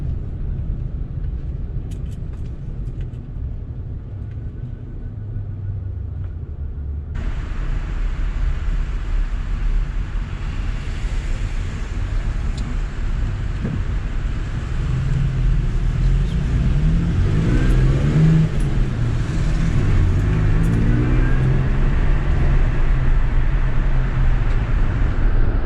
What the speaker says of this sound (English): So yeah, like I'm in neutral. If you rev it, it just barely makes any noise,